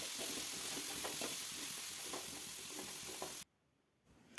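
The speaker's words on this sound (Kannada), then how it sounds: "ನಾನು ಇವಾಗ ಆನಿಯನ್ ಆ್ಯಡ್ ಮಾಡ್ಕೊಳ್ತಿದ್ದೀನಿ" Sliced onion and green chillies sizzle in hot oil in a pan, a dense steady frying hiss with light stirring scrapes, then the sizzle cuts out abruptly near the end.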